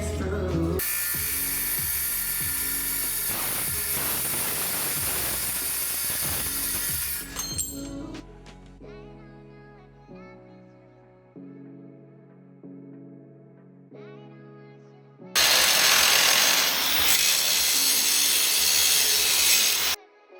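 A power saw or grinder whines loudly as it cuts steel box tubing for bump stops on a Jeep XJ, then winds down and rings off in a fading metallic tone, before a second loud burst of cutting near the end.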